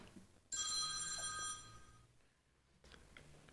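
A telephone rings during a Zoom call, one loud electronic ring lasting about a second, then quiet room sound with no talk.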